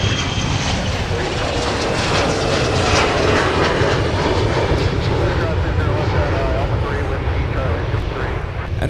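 Airbus A319 jet engines at Minneapolis–Saint Paul airport, a loud steady broadband roar that holds throughout, with a commentator's voice talking over it.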